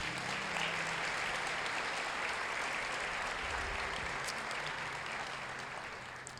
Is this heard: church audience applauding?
yes